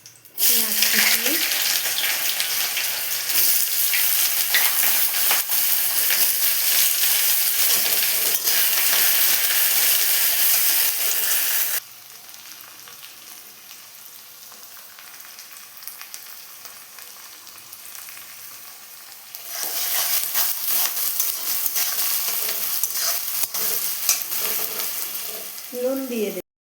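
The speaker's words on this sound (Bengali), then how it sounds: "পেঁয়াজটা আমার লাল করে ভাজা হয়ে গিয়েছে" Chopped onions and a bay leaf fry in oil in a kadai with a loud, steady sizzle that drops to a quieter hiss midway, then swells again before fading.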